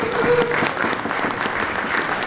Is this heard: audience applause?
yes